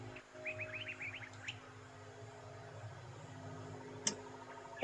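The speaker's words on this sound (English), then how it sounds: "you could actually hear birds" Birdsong in the video game Psychedelica of the Ashen Hawk: a quick run of bright chirps early on, then sparse tweets over a low ambient hum, with a sharp click near the end.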